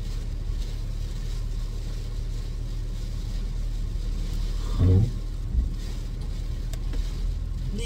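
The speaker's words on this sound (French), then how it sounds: "Mon volant, moteur, il s'allume." A car engine idles with a steady low rumble close by, briefly swelling in a short rev near the middle, with no talking over it.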